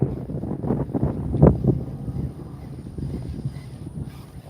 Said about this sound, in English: Now I'm fighting the wind again.